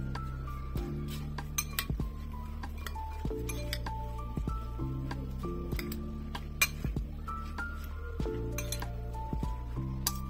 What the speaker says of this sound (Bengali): ভালো করে প্রথমে আমি মিক্সিং করে নিব।